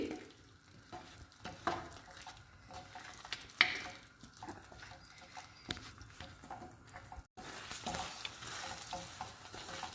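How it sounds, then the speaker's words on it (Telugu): Coconut chutney with dried red chillies sizzles and crackles in a pan of tempering while a utensil stirs and scrapes, with scattered louder clicks and an abrupt brief dropout partway. "పచ్చడి బాగా ఫ్రై అయిందండి"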